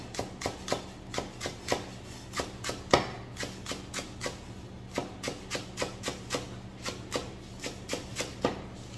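Onion leaves being chopped into small pieces with a knife on a board: a quick, steady run of light, crisp taps at close range, with no talking.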